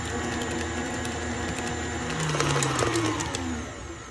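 A KitchenAid stand mixer runs at medium speed through keto cheesecake filling, a steady close motor whir with gear rattle and faint scraping that swells slightly midway before easing off.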